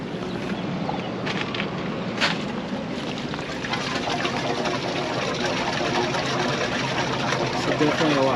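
Waste water drains from an RV black tank through an opened valve, a steady broadband rush of flowing liquid that persists throughout, with a voice speaking over it.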